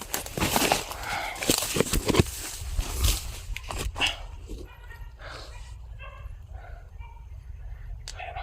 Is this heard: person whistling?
no